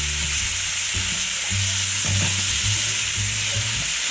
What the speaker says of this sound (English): Then I'm gonna add some garlic and begin to saute